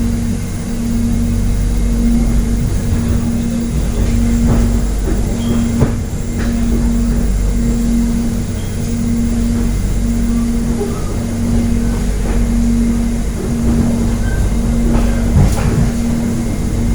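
The Soekarno-Hatta airport rail link train rolls along its tracks, heard from inside as a continuous loud low rumble with a steady hum and faint clicks and rattles throughout.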